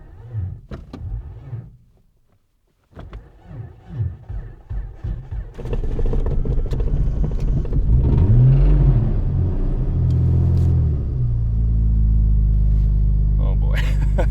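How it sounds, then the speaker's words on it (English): A car at an off-grid cabin in northern Minnesota cranks with a rhythmic starter chug, pauses, cranks again, then catches and settles into a loud, low rumbling idle with rising revs, with a voice heard early on. "It doesn't want to start, and then if I give it some throttle, and then it suddenly starts to crank over and do it."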